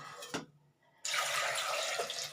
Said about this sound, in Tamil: இப்போ நம்ம இதுக்கு தேவையான தண்ணி விட்டுடலாம்